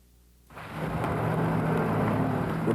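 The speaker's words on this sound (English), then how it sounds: "Remember this? The storms of '94, all of them." Thunderstorm from 1994, a rumble of thunder swelling in out of near quiet into a steady, dense roar of heavy rain that holds loud to the end.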